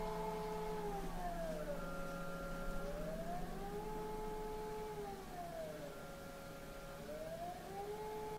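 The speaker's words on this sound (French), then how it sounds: "ce que vous entendez là, c'est pas un montage, c'est les sirènes" A Swiss civil defense siren test wails, rising and falling in long, slow sweeps, steady and fairly distant, sounding alone without any talking.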